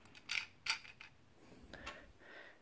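Plastic buttons on a Mr. Coffee automatic coffee maker, cleaned of sticky residue and moving freely, give a few faint light clicks and rattles close by.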